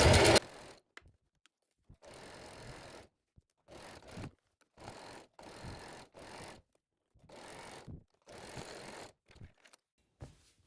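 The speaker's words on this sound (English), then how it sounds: "we're sewing this with a 1 centimeter seam allowance" A sewing machine runs a seam on a blouse in several short, separate bursts with quiet pauses between them, close and moderately loud.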